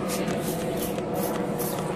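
Cleaning liquid is squirted onto an arcade monitor in repeated short spray bursts over a steady hiss, close and moderately loud.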